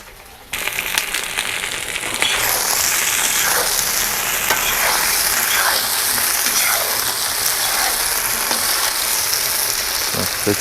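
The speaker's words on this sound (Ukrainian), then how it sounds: "Нехай смажиться далі" Potatoes fry in a pan with a loud, continuous sizzle and crackle, occasional stirring scrapes, no voices.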